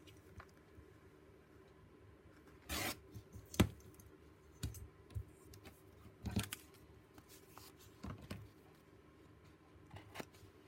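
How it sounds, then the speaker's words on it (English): Book page paper torn by hand in crafting, a short ripping burst near the start followed by scattered soft clicks and paper handling, close and fairly quiet. "I'll just tear that bit off there."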